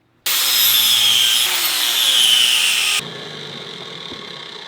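A power saw cuts a 90-degree notch into a steel frame tube for a drift trike, a loud, continuous high-pitched shriek that starts abruptly, holds steady, then drops to a lower grinding whine partway through.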